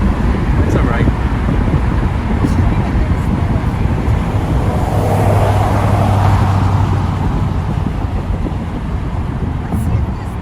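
Steady city road traffic on the way to Brooklyn in New York City, with a constant loud roar of cars driving, rumbling tires and wind buffeting the microphone throughout, with no break.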